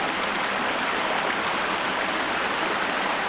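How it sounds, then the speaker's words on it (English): Loud rushing water from a Sherlock Holmes video game scene set in an old Roman city, a steady, dense broadband roar like a stream or waterfall that fills the whole stretch. "that's loud water."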